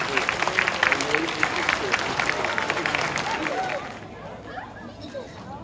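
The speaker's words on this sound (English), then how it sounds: "let's give a big round of applause to, to Smith for being such" A crowd claps and cheers for a teacher, a dense round of applause with scattered voices that drops away into quieter murmuring toward the end.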